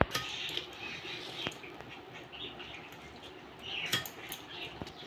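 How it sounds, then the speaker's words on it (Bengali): A knife chops white leafy greens (sada shak) on a board, with sharp intermittent taps and scraping clicks spread over several seconds at close range, no voices. "শাকগুলো কেটে নেব।"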